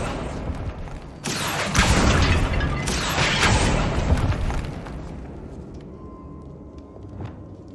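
Bombarda spell blasts go off in Hogwarts Legacy: two heavy booming explosions with rumbling debris, each followed by a crackling tail that fades into quieter ambience and light effects.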